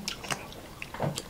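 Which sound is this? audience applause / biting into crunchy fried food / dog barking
biting into crunchy fried food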